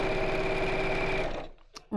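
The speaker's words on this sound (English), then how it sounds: "Right, so again, just sewing all the way around the top." Sewing machine stitching around the top of a piece of fabric, a fast, steady mechanical whir that runs for over a second and then stops, followed by small handling noises.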